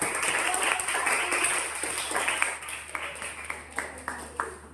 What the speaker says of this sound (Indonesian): kita berikan aplaus yang paling meriah untuk kelompok